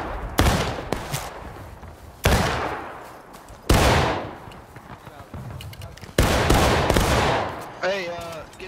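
Musket volleys crack out in War of Rights, several loud sharp blasts spaced a second or two apart, each trailing off in a long rolling echo across an open field, with a voice near the end.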